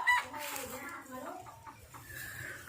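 Chickens cluck and squawk near a spot where something is laid out to dry, with voices talking over the birds throughout.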